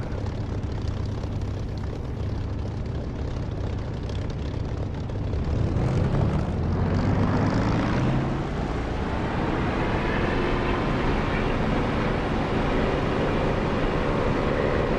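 Spitfire piston engine in the DCS flight simulator, a steady droning roar that swells and rises in pitch midway as power builds, continuous and close with no talking.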